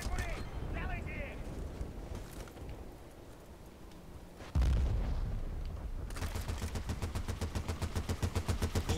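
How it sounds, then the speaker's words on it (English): Mortar shells burst in Battlefield Bad Company 2, with a sudden heavy boom midway followed by rapid gunfire crackle, mixed with game noise and a voice talking. "we get two mortar shots too?"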